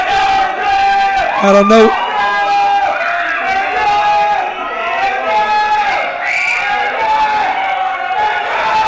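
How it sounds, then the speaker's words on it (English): A wrestling crowd at a FutureShock event cheers, whoops and screams in a loud continuous roar, with a voice briefly speaking over the noise. "they're over here cheering and screaming for you"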